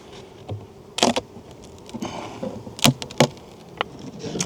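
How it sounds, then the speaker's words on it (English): Honey bees buzzing inside a winter farm hive, a continuous droning hum with several loud close passes of individual bees near the listener. "I have a lot of bees on the inside"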